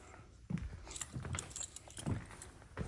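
Keys to a 1954 Oldsmobile jangling and clinking in a few quick bursts, close by, with brief pauses between shakes.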